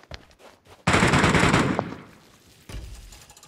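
Gunfire in a shooter video game: a loud, sustained automatic burst that tapers off, then a short second volley. No one speaks.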